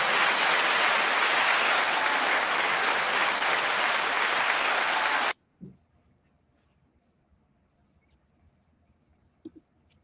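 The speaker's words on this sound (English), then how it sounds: "as always, 9-second applause." Dense applause and cheering from a small group ends abruptly after about five seconds, leaving near silence broken by a couple of faint knocks.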